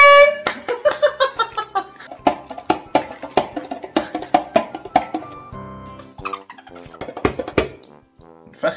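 A zamr horn blares in repeated toots over a steady tabla drum beat, loud and close, with short pauses and a few changes in rhythm.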